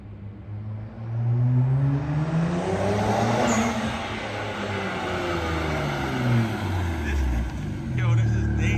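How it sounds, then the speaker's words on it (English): A BMW 335 doing a one-wheel burnout, its engine revving in rising and falling sweeps over a hissing roar of tire spin, loud and sustained throughout. "We actually did a fat burnout in it today."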